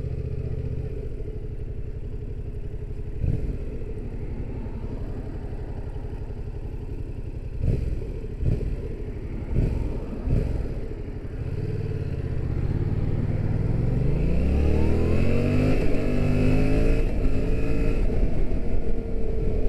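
A motorcycle engine revving hard, with sharp throttle blips early and then a rising, sustained roar that climbs in pitch and stays loud and close to the end.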